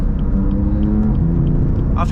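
Engine of a BMW M4 CS with a steady, loud, low rumble while the car shifts gears quickly, ending in a brief sharper burst; a voice may be faintly audible.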